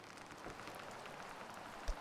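Rain falls in the sailing game Sailwind as a faint, steady patter of drops on surfaces, even and continuous, with a soft thump near the end.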